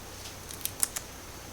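Dehydrated Memphis pit BBQ chicken pieces snapping apart by hand, giving a few dry, airy, brittle cracks close by in a quiet room.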